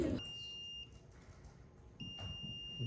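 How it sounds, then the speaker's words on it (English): A fire alarm beeps faintly in a room. Two steady high electronic tones sound, separated by a short gap, with soft thumps and background shuffling around them. "Fire alarm, right."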